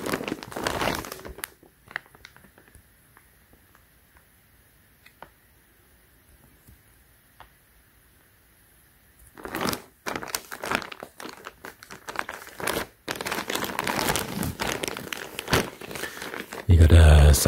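Plastic Ziploc bag crinkling close up in loud, dense rustling bursts at the start and through the second half, with a quiet stretch between.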